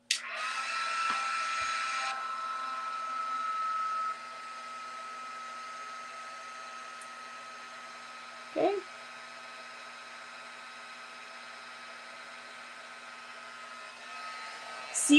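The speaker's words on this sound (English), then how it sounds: "So I'm going to heat up my heat gun." A heat gun warms embossing powder during a metallic and watercolor craft session, giving a steady airy whir that runs loudly for a few seconds, then continues at a lower, even level.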